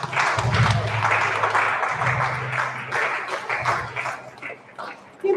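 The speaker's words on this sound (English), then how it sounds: "Keep clapping, please." An audience claps continuously at a panel event, a dense patter of hands over a low hum that fades out near the end.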